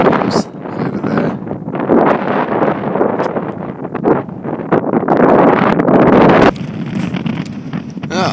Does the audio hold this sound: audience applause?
no